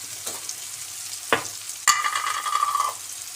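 Menemen ingredients, tomatoes among them, fry in a pan with a steady sizzle, punctuated by a couple of sharp spatula knocks and a louder burst of frying, with no talking.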